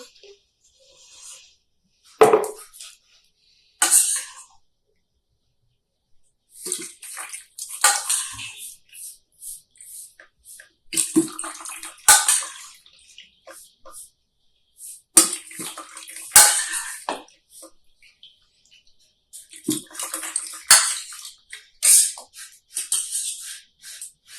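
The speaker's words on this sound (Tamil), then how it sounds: "இப்போ பார்த்தீங்கன்னா நெல்லிக்காய் நல்லா வெந்துருச்சு நல்லா ஆறிடுச்சு இதை நம்ம வடிகட்டிக்கலாம்" Boiled gooseberries are strained out of their cooking water, giving a series of close, irregular splashes and pouring trickles with drips, separated by short quiet gaps.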